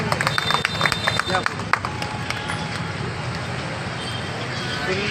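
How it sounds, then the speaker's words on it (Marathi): A crowd claps and cheers loudly to welcome the owners at the launch of a chocolate dessert shop, with dense applause strongest early on and a steady hubbub of voices running throughout. "एकदम जोरदार टाळ्या।"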